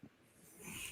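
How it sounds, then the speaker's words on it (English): A dog whimpers faintly in the background indoors, giving a soft brief whine and snuffle that fades into room noise. "Somebody's dog calling."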